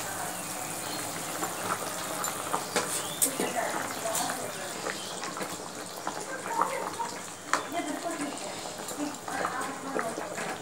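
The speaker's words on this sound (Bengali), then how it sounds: "ঝোল ফুটে উঠেছে, এবার এর মধ্যে মাছগুলোকে দিয়ে দেবো।" Rohu fish pieces go into a boiling mustard-and-garlic curry broth, which bubbles and churns steadily at close range while a person talks over it.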